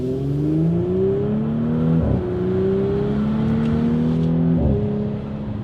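An Audi S4 B9 engine with a Unitronic intake revs and climbs through gears, with rising tones and a faint whistling turbo spool over the steady motor drone.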